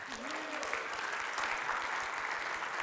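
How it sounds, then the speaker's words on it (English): A church congregation claps after a baptism during Sunday worship, a soft, steady wash of applause heard from some distance, with a voice briefly audible at the start. "Round of applause."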